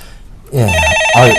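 Telephone rings for the next caller on a Korean stock-market call-in show: a warbling electronic ring in two close bursts, loud and near, after a moment of quiet.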